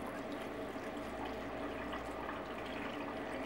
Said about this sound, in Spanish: A ver si le vamos a ir agregando agua.